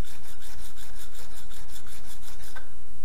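Sandpaper is worked by hand over the flats of a knife blade held in a jig, making loud, close, rhythmic scraping strokes in a steady back-and-forth pattern.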